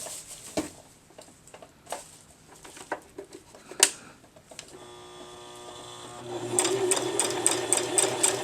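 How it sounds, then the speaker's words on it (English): A sewing machine stitches a stretched sock for a sock monkey, starting with scattered clicks and handling taps, then running steadily and loudly as a continuous whirring hum toward the end, with no talk. "You're going to stretch the sock as you sew"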